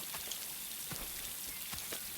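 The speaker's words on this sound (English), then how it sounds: "Cooling rain." Rain falls in the video game Boundless: a faint, even patter with a few slightly sharper drops, with no voices.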